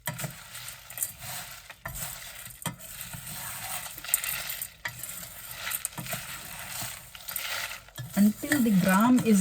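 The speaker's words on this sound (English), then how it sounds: "until the gram is done, you have to roast" Gram dal and spices dry roasting in a pan for sambar powder, with steady scraping and stirring strokes throughout and a faint crackle underneath, ending in a louder clatter and a brief tonal scrape.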